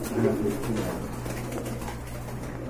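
Large rare-coloured pet pigeons coo in low, steady murmurs close by, with faint human voices in the background throughout.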